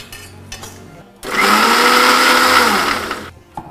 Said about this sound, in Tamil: கத்திரிக்காய் பூண்டு அதுக்கப்புறம் பச்சை மிளகாய் இப்போ வந்து கீரை மிக்ஸியில் போடுறோமா